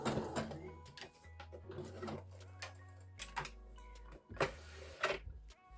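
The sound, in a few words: sewing machine stitching an invisible zip with a slim adjustable foot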